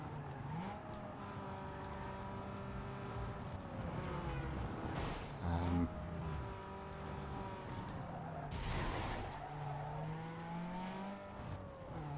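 Car in Need for Speed Underground 2 racing game swinging through a 180-degree turn, a steady engine drone with rising and falling pitch and two brief bursts of tire screech, moderately loud and alone.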